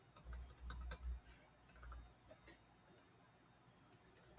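Fingers typing names on a computer keyboard, quiet clicking keystrokes in short bursts near the start and around two seconds, then fading to sparse taps, no talking.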